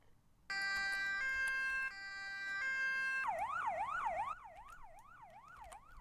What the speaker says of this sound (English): The way the siren worked